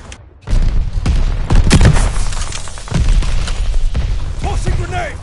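A grenade blast erupts in the online shooter Call of Duty: Vanguard amid heavy gunfire. Loud, dense booms and rattling shots pile up close together, with in-game voices calling out over the chaos.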